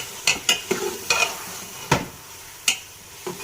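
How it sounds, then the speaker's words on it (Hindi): Spinach stirred into a frying pan of tripe for pota palak, with scattered scraping stirs and spoon knocks over a soft background sizzle, close and fairly quiet, no talking. "स्टेन करके मैं इसको इसके अंदर डाल दूँगी सारी पालक इस तरीके से।"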